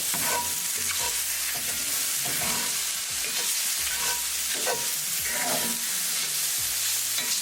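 Red chili flakes and parsley flakes being stirred into a skillet of salmon and mushrooms, with a steady sizzle under repeated scraping and stirring strokes, close and fairly loud, with no talk.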